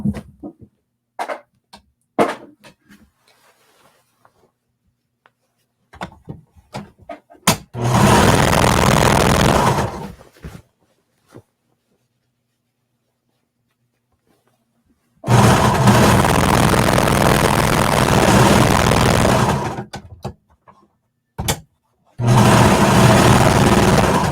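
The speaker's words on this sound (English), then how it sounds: "we're going to sew down this big edge, the big line, to attach the two skirt pieces together using a 1/4 inch seam allowance" A sewing machine stitching the long seam joining two skirt pieces of a jacket: several loud, steady runs of whirring lasting a few seconds each, separated by quiet pauses with small handling clicks.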